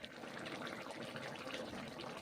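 A pot of curry with ridge gourd and egg bubbles and simmers in a steady, busy wash of liquid noise, close and continuous without pauses.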